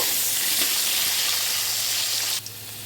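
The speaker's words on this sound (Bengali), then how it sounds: "আলুগুলোও ভালো করে ভেজে নেব" Potatoes frying in hot oil in a home kitchen for a koi fish curry with potato and eggplant, a loud steady sizzle that drops off abruptly near the end.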